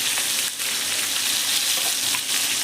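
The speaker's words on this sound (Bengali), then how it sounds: "এবার আমি দিয়ে দিচ্ছি যে পেঁয়াজটা আমি ঘষে রেখেছিলাম" Grated onion sizzles steadily in hot oil while a shahi prawn dish is cooked, a brief, even frying hiss with no talking.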